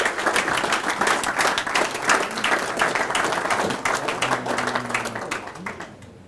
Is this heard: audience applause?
yes